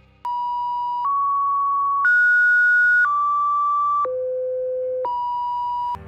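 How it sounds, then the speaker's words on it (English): A steady electronic tone from a mysterious online video, stepping through six pitches, each held about a second, clean and loud with nothing else underneath. "A constant ringing tone was the only audio to add to the mystery."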